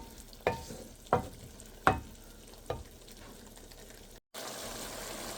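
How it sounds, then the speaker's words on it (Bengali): Meat stirred and fried with Kashmiri red chili powder and hot chili powder in a pan, four distinct scraping stirs over steady sizzling, close and moderately loud, then a brief cut to a brighter, louder hiss. "আর ঝাল মরিচের গুঁড়া দিছি 1/2 চামচ। এখন এটা ভালো করে কষিয়ে নেব।"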